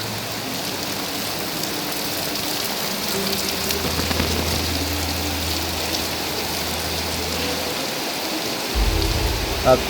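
Steady rain falls outdoors around a newly built stage set up for a ceremony, an even, dense hiss with a low hum beneath and no talking.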